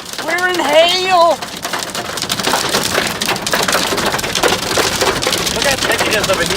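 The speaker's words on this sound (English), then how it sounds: "We're in hail! We're in hail!" Hail pelts down hard in a dense, continuous rattle of stones striking surfaces during a severe storm, loud and close, with a raised voice shouting over it near the start.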